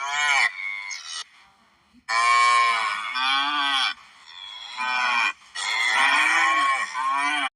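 Several cows in a farm field give long, loud, close moos, four drawn-out calls with short pauses between them and no talking over them.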